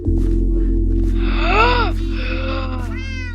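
A cat meows in the Minecraft video game, a few rising and falling cries over a steady low game hum, fairly close and clear with no talk.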